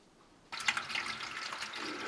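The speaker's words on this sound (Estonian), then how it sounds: "Lasen autoklaavi vett täis." Water gushing steadily into an autoclave being filled for canning food in retort pouches, a continuous close splashing stream that starts abruptly after a quiet moment and runs on.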